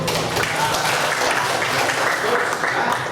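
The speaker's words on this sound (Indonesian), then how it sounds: "Beri tepuk tangan untuk" A classroom full of students applauding steadily, dense overlapping claps throughout with a murmur of voices mixed in.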